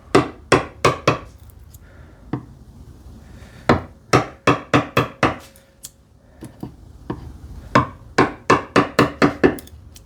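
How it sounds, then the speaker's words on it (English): Sharp, repeated hammer blows drive a chisel into wood during hand-tool work on a TV unit, landing in quick bursts of three to five strikes with short pauses, loud and close. "just lifting the chisel this way to make sure that it just splits"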